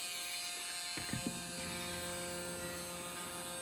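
A small RC model motor runs on 12 volts, a faint, steady electric whine with a couple of soft clicks near the start, continuous and close with no talking.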